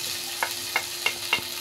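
Ground spices, Kashmiri chilli powder and garlic hit hot oil in a pan, giving a steady soft sizzle broken by four evenly spaced sharp scrapes of stirring.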